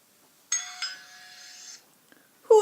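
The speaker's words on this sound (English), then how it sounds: "Who's out there ringing my bell?" A doorbell rings once at a home's front door, a sustained two-tone electronic chime lasting about a second, followed by a faint click and a short burst of noise at the end.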